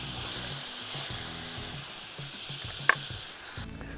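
Pork belly browning in a camping pan with a close, continuous sizzle and spit, plus one brief sharp clink partway through.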